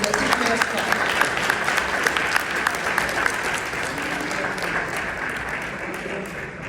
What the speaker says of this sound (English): A round of applause again for Mr. Apreciation